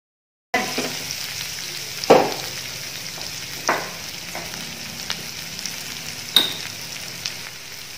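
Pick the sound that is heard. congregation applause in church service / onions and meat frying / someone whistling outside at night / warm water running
onions and meat frying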